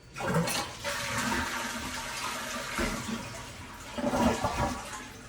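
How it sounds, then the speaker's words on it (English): A toilet flushes just after its squealing fill valve has been replaced, giving a close, churning rush of water that swirls and drains for several seconds. "one more flush just for good measure"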